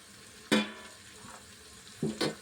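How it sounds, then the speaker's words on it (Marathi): Cauliflower, green beans and other vegetables for pav bhaji are tossed in a pan over a soft, low sizzle, with two bursts of louder scraping and clatter from stirring. No one talks. "आता याच्यामध्ये फ्लावर टाकणार आहे फरसबी ह्या सगळ्या भाज्या अशा याच्यामध्ये टाकून घेते"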